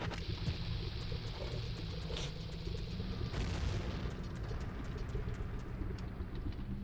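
A bomb blasting through the floor in a video game sounds as a dense, rumbling low boom under a steady noisy game soundscape, with no talking.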